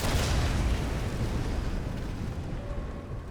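A half-track blows up in Sniper Elite 4 with a heavy, rumbling blast that hits at once and then rolls away, its low roar slowly thinning out over a few seconds.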